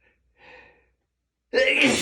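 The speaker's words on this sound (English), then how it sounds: "sneeze." A single loud, sharp sneeze bursts out near the end, set off by morning allergies, after a soft breathy gasp and a moment of silence.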